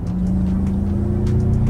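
A Ford Mustang revs under acceleration on a street, a steady engine drone with a slowly rising pitch, loud and close throughout, with no voices.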